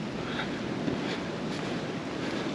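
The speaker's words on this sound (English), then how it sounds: "The wind down here is crazy." Strong wind gusts buffet the microphone beside roaring water on a backpacking trip in Dolly Sods, producing a dense, continuous rushing noise that is loud and close, with no speech.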